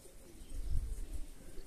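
Domestic pigeons, including young Iranian and Baku tumbler breeds, coo softly in a dovecote, low murmuring calls swelling and fading in an unbroken background chorus, faint and close with no talk.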